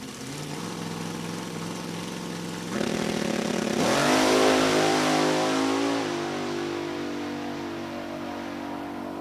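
A Top Dragster race car's engine, loud and close, idles with a rough, throbbing rumble, then roars up in pitch as it launches down the drag strip at National Trail Raceway, the roar sweeping and fading slightly as it pulls away.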